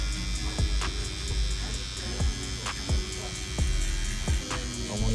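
Electric hair clippers buzz steadily while cutting the first guideline of a taper fade, with repeated short strokes and light contact sounds against the hair, close and moderately quiet.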